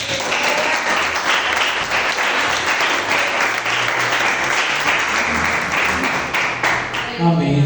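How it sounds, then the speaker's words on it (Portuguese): Congregation applause during a Portuguese-language church service, dense sustained clapping for several seconds that fades at the end as a voice comes in. "Agradeço a oportunidade e as palmas para o Senhor Jesus."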